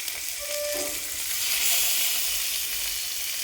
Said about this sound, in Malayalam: ഫിഷ് ഫ്രൈ ചെയ്യാൻ വേണ്ടി വെക്കുകയാണ്